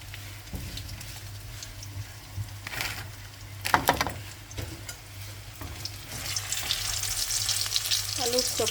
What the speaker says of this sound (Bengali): এই তো আমাদের রোল ভাজি হয়ে গেছে